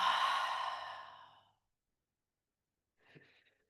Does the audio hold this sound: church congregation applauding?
no